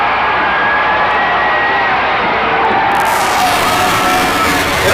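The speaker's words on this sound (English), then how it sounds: "we've got Bedlam here at Otterbein College, both rooting sections, cheering their team on to the fullest extent" Crowd at a 1981 girls' varsity basketball regional semifinal at Otterbein College, with both rooting sections cheering and shouting loudly and continuously.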